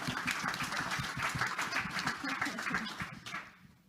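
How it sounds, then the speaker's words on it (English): An audience at a conference session applauds. The dense crowd clapping mixes with some voices and then fades away near the end. "Then applause."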